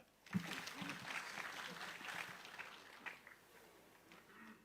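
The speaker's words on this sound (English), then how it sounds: "Please give us a clap." Family gathering audience clapping in tribute to a mother and late father, a brief burst of applause at moderate distance, fairly soft and thinning out after a few seconds with murmurs underneath.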